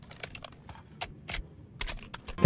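M4A1 carbine reload in a Minecraft gun mod: a quick series of light metallic clicks and clacks, close and sparse, ending with a firmer snap.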